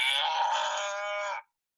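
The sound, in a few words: cow mooing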